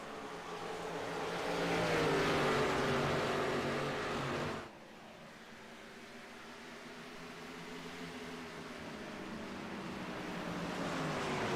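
Race car engines droning steadily in a racing video game at Loudon, a loud sustained roar that cuts off abruptly midway and resumes as a lower, steadier hum that slowly builds again.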